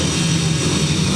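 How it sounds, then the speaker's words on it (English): 250cc solo motorcycles revving at a grasstrack race, a steady loud engine drone heard from across the track with no break. "Revving up over on that far side"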